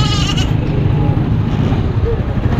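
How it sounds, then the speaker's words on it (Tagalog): Goats bleat at a livestock market in San Carlos City, Pangasinan, a few loud nearby cries over a busy background of crowd noise and other animals. "Kambing, oh."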